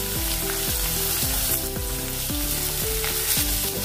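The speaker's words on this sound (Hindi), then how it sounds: "हम इसमें डालेंगे प्याज बारीक कटा हुआ और साथ में डाल देंगे हरी मिर्च भी" Finely chopped onion and green chili fry in a pan with a continuous crackling sizzle, steady and fairly loud throughout.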